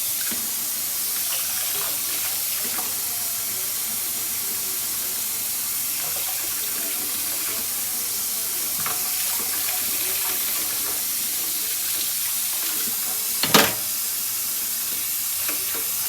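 A tap runs steadily into a kitchen sink as a small child washes a spoon while doing the dishes, a constant close hiss of flowing water with faint clinks and one brief louder knock near the end.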